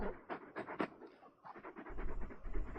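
Torgal, the giant wolfhound from Final Fantasy XVI, pants close by in quick, rhythmic breaths that swell louder and heavier toward the end.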